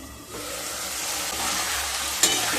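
Potato and drumstick pieces frying in a pan over medium-low heat, an even, close sizzle with stirring and scraping, ending on a sharper clatter.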